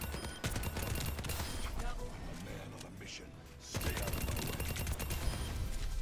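First-person shooter gunfire, rapid sustained bursts of automatic shots filling the clip, broken by a short quieter pause in the middle before the firing resumes loud and dense.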